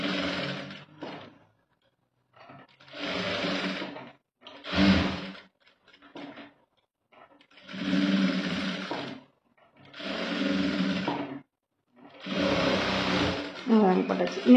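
A sewing machine stitches a blouse at a small stitch setting, running in six or seven steady whirring bursts with short pauses between them, close and fairly loud, with a person talking over it.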